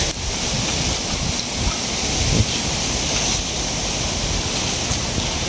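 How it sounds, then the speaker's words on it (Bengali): Strong wind blows outdoors in a loud, unbroken roar that fills the whole stretch, steady with only slight surges. "প্রচুর পরিমাণে বাতাস"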